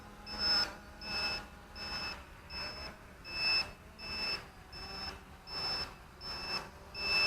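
Repeated high-pitched electronic beeps in regular bursts, roughly one per second, from a Cheerson CX-20 quadcopter's low-voltage alarm, over a steady whirring motor hum.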